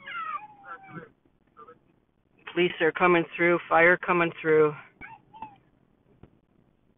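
Cats meowing loudly and insistently in a series of close, drawn-out cries while being loaded up to evacuate an RV resort during a fire, with a person speaking briefly before and faint sounds after.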